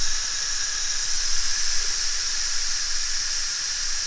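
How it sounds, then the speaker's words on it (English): Steady, loud hiss of steam venting from an Instant Pot pressure cooker during quick release while making lobster bisque, continuous and unbroken for the whole stretch with no talking. "try to keep your body parts away from that steam once you move that knob over to let that pressure out"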